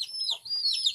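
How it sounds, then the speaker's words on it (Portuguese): Hens with chicks clucking inside a chicken coop on a small farm, a soft, busy run of high chirps and clucks continuing close by throughout, with no talk. "E aqui, olha, as galinhas com pintinho."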